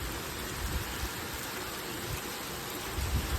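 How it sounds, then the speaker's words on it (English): Hail storm in Milwaukee County with steady heavy rain hammering surfaces, a dense constant roar with low rumbles of thunder rising near the end, no voices. "there's just constant thunder and lightning and stuff"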